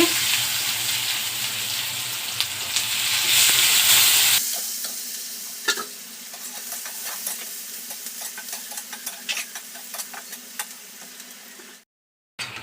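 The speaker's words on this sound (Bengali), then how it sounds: "আমার পেঁয়াজটা লাল লাল করে ভাজা হয়ে গেছে।" Chopped onions frying in a little oil in a wok, first a loud bright sizzle that drops suddenly to a quieter crackle with repeated stirring scrapes, ending in a brief silence.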